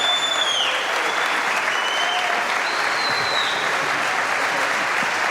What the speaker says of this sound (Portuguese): O maestro aplaude.